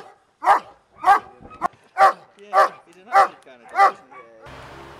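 A police dog barks loudly and close, six evenly spaced deep barks roughly every half second, followed by a brief rumble of background noise.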